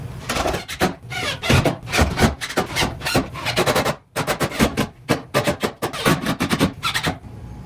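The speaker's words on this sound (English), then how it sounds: "these are the little screws that we put through the top and bottom. I'm gonna put them in" Small screws are driven through a bracket during house construction, heard as close, loud, gritty rubbing and rasping in uneven bursts with one brief pause.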